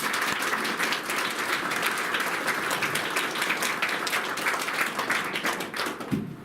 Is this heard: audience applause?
yes